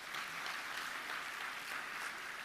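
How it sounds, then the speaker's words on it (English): Audience clapping at an innovation and tech week gathering in Nairobi, a steady, even wash of many hands heard from a distance at low volume. "Jameni, please clap for them."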